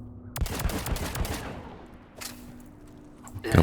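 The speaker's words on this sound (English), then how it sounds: "Couple warning shots. He felt that pistol." Gunfire in the Mass Effect 3 video game: a rapid burst of sharp pistol shots fired as warnings, loud and close, followed by a lingering low rumble and one more hit at the end.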